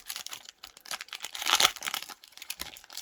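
Foil wrapper of a 1996 Topps Star Wars Shadows of the Empire trading card pack being torn open, sharp crinkling and ripping bursts in quick irregular bunches, close and alone.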